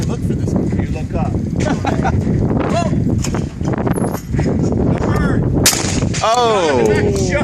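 Shotguns fire outdoors at clay targets, sharp loud blasts breaking out several times amid excited shouting and chatter from a group of people close by, with wind buffeting the microphone.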